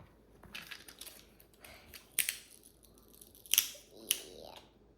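Scissors snip through a paper maple leaf in a few sharp, close cuts, each crisp and separate, with quiet rustling of the paper between them.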